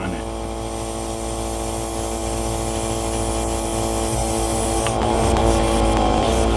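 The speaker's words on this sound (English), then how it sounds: "so now we'll go ahead and put another thin coat on it." Airbrush spraying a thin coat of paint onto a Panzer I Breda scale model, a steady hiss with compressor hum running continuously and growing slightly louder near the end.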